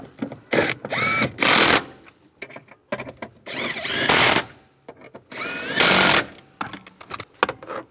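Power drill driving down bolts during heater core replacement on a 2007-2013 Chevy Silverado, three loud whirring bursts of about a second each, close up, with quieter clanks and handling noises between them.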